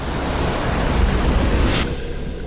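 Big ocean waves surge and wash in a steady, loud roar of surf, with wind noise over it and no voices.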